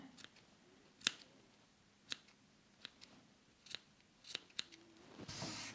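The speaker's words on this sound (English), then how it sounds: "Good idea to have some nice sharp scissors. I'm using embroidery scissors." Sharp embroidery scissors trimming yarn ends on crocheted thistles, making about eight crisp, close snips at irregular intervals, with a brief rustle of the yarn at the end.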